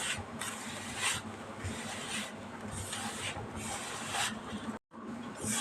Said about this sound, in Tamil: எண்ணெய் ஊற்றிட்டு நல்லா கை போட்டு நல்லா எல்லாம் பிசைஞ்சு எடுக்கலாம் எண்ணெயில்